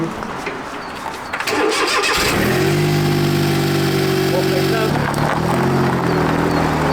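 A turbocharged car engine cranks and catches, then settles into a loud, steady idle with a deep hum and a slight shift partway through, heard up close over faint background talk.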